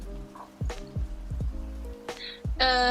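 Rain falling in a steady background patter, partly masked by a low hum and scattered sharp knocks and clattering noises that come and go, with a brief bright tonal burst near the end.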